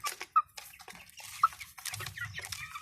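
Young Australorp chicks in a poultry setup give a few faint, sharp peeps and soft clucks, scattered over a quiet background.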